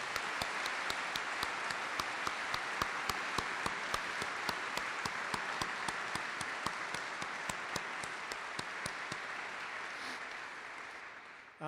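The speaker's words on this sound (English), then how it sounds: "let's have a round of applause for Arthur" An audience at an evening event with a cardinal speaking gives a long, steady round of applause, the crowd's clapping heard at a distance with some crisp individual claps, slowly fading near the end.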